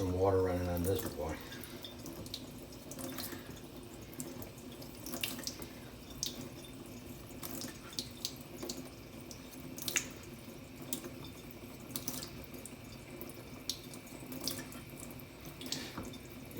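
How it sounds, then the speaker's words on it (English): Water runs steadily from a tap with a soft, constant splashing hiss, beginning after a short burst of louder noise at the start, while a straight razor is being sharpened on a stone. "get some water running on this boy."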